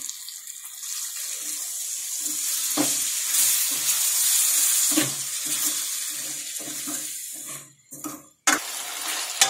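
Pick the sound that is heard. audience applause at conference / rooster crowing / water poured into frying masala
water poured into frying masala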